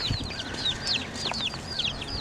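Soft, repeated clucking from two backyard hens close by, short rising calls scattered over a low background hum, with no talking.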